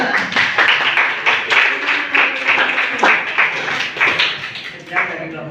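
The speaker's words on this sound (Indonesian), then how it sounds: "Kalau udah nggak ada, boleh tepuk tangan buat kelompoknya." A classroom group of students claps for the presenting group, a patter of handclaps over several seconds mixed with voices talking.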